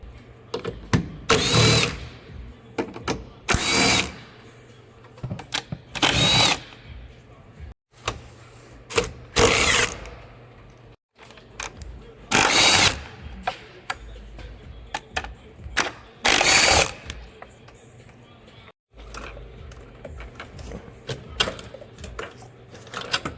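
Hand tools working on the intake system of a 2023 Honda CR-V Hybrid, with repeated bursts of ratcheting, clicking and metallic handling spaced every couple of seconds, close by and fairly loud, with quieter fiddling between them.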